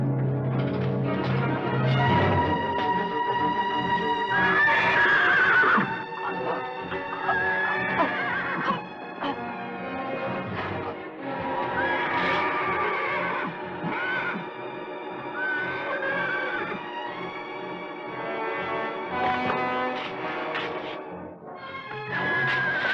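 A mare ready to foal neighs and whinnies repeatedly in a Western drama scene, loud, shrill calls rising and falling over a stretch of stable noise and faint hoof movement.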